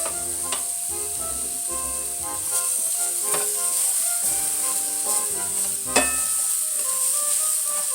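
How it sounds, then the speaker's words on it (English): Golden delicious apple slices sizzle steadily in a hot pan, a constant close hiss broken by occasional clinks and taps of a utensil stirring. "We'll saute this about 1 to 2 more minutes."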